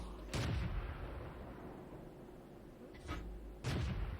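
Heavy tank cannon shots in a World of Tanks battle against a Cromwell, with three booming blasts spaced over a few seconds, the first and last loud and close, the middle one somewhat lighter, over a steady rumbling background.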